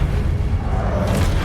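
A Confringo spell blast in the Hogwarts Legacy video game bursts out as a dense, booming explosion that rumbles steadily throughout, with a brighter crackle near the end.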